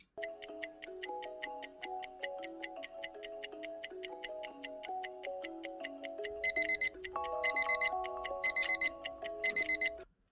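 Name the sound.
countdown clock ticking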